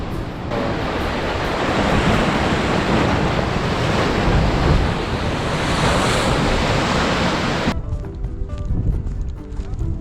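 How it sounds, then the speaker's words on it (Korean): Ocean waves roll and wash steadily against the rocky coast of Marado island under gusting wind that buffets the microphone, a dense continuous roar that thins near the end. "여기 완전 바다랑 가깝네"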